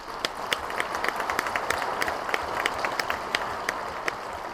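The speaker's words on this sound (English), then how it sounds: "I want you to please give these folks a round of applause." An audience at the AT&T Drive Studio announcement at CES 2014 gives applause. The clapping is steady and moderately loud, with sharper individual claps standing out from the dense crowd sound throughout.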